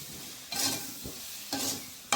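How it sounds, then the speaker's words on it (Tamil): Tomatoes being sautéed in a pan, with two bursts of stirring and scraping about a second apart over a soft, steady background sizzle, plus a short knock near the end. "2 தக்காளி பழத்தையும் சேர்க்கிறேன். சேர்த்து வடிவா அந்த தக்காளி பழம் கரையும் வரைக்கும் வதக்கி விட போறேன்."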